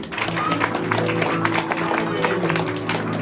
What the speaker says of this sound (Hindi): सब लोग बैठ जाएंगे, जोरदार ताली दो यीशु के लिए।